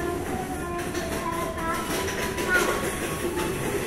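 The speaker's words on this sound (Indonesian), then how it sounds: "kereta api melintas langsung" A train passes straight through a station on track 1 at a moderate distance, a steady broad roar with faint rail clatter throughout.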